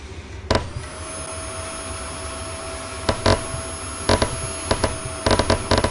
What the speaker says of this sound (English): Remove metal chips from the lathe using the vacuum cleaner.